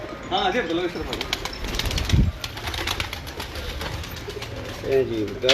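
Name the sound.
pigeons, breeder pigeons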